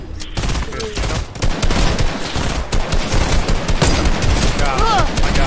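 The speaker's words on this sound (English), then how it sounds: "Who's shooting right back? Here, shoot him." Dense, continuous in-game gunfire from a Fortnite battle crackles loudly in rapid bursts, with players' voices mixed in beneath the shooting.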